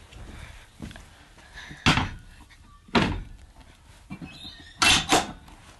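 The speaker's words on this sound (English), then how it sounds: "close the other breech door and then we'll close the tailgate" Three heavy metallic thuds of horse float breech doors and tailgate slamming shut, a few seconds apart, close by, with faint rattling between.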